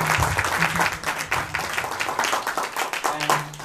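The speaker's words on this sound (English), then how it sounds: "please give applause to our" Audience applause and clapping after a student presentation, strong at first and then thinning, with voices and some tonal sound mixed in underneath.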